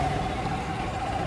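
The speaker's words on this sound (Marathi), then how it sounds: "गाडीचा आवाज येतो मला." A new N160 motorcycle engine runs steadily and close, with a continuous low rumble and no talking over it.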